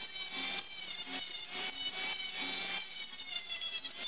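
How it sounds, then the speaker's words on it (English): A Dremel rotary tool grinds the corners off a plastic canopy, a high, gritty whine that rises and falls in short repeated strokes as the bit bites and eases off the material. "So I'm going to Dremel all those big fat corners off."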